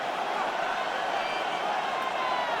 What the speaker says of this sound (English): This Buffalo crowd letting them have it